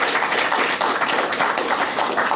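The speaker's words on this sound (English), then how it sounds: "round of applause for them" Audience applause at a Saint Lucia anniversary celebration, a dense steady clatter of many hands clapping across a room, sustained evenly for a couple of seconds without pause.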